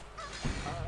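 A duck in the video game BattleBlock Theater lets out a brief, loud honking squawk as it dies, rising over faint game background noise.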